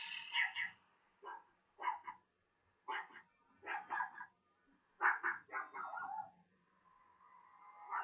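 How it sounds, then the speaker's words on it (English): Several dogs bark in a distant, uneven series of short bursts and a few yips, with brief gaps between volleys, heard in the background of a home during a paranormal investigators' live stream. "That's our dogs in the background barking."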